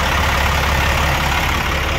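A Caterpillar C13 diesel engine in a 2006 Sterling heavy-spec flatbed truck idles loudly and steadily, a deep continuous rumble close by with no voices.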